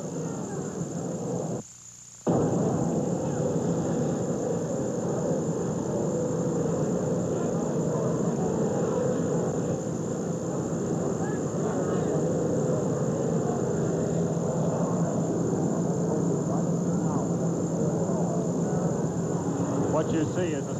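An Army helicopter that has just landed near the presidential jet gives off a loud, steady engine and rotor drone that holds for the whole stretch, apart from a brief dropout near the start.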